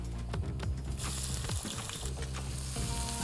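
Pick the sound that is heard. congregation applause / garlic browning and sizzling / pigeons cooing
garlic browning and sizzling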